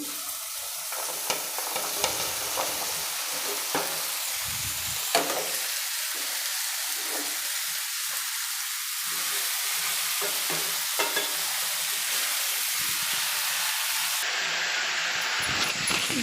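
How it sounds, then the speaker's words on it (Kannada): Chopped bottle gourd added to half-fried tomatoes in a pan, a continuous loud sizzle and hiss with occasional stirring scrapes and knocks, no talking. "ಈಗ ನಾನು ಸೊರೆಕಾಯಿನ ಕಟ್ ಮಾಡಿರೋ ಸೊರೆಕಾಯಿನ ಸೇರಿಸ್ಕೊತೀನಿ"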